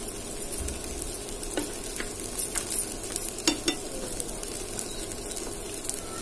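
A dal chilla fries in a little oil on a pan with a continuous close sizzle, and a few light taps and scrapes of a spatula come and go over it.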